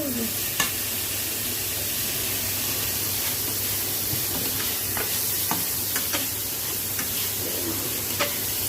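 Spices for mustard hilsa curry frying and being stirred in a pan, a steady loud sizzle with scattered clinks and scrapes of the spoon throughout, no talking.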